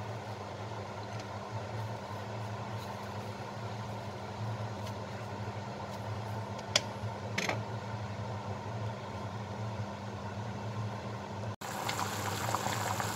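A pot of Greek pumpkin spoon sweet with rose geranium bubbles in its syrup, a close, continuous low boil that runs evenly with a few faint clinks.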